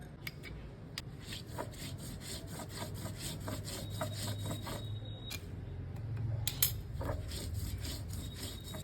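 Poppy seeds and mustard seeds ground together into a paste: a steady, rhythmic rasping scrape, close and continuous, with a few sharper strokes and no talking.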